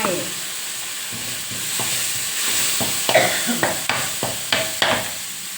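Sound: water added to garlic stir-frying in a pan

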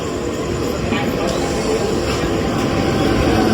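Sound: train arriving at Nalasopara station

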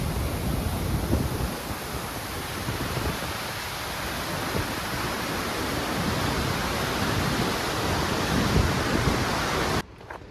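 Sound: fast-flowing water at the start of Ruichonda waterfall

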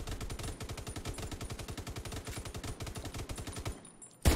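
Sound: gunfire from a rifle in the video game The Division 2

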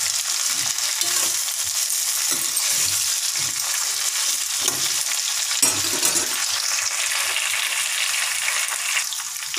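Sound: cauliflower and potato frying and being stirred in a pan

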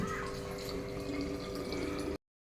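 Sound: water being poured in for cooking Maggi noodles

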